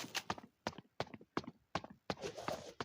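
Sharp, evenly spaced footfalls in the shooter game Bullet Angel on a new map, about eight steps close and clear in a steady walking rhythm, alone with no talk.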